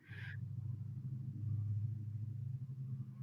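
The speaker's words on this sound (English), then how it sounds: "We can hear your car in the background slightly." Low steady rumble of a car engine running in the background, a continuous droning hum with a brief higher noise at the start and no talk.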